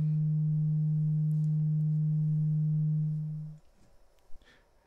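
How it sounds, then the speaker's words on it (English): Steady pure sine tone from a System 55 modular synthesizer, sounding alone and loud for about three and a half seconds before cutting off into faint room hiss. "sine wave."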